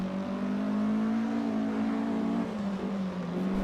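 A Porsche 718 RS Spyder engine in Assetto Corsa holds a loud, steady high-revving drone, dipping slightly in pitch near the end as it shifts.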